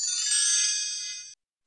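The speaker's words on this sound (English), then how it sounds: "Matt hears the phone ring." A single telephone ring with a bright electronic ringtone, clear and close, lasting just over a second and then cutting off into silence.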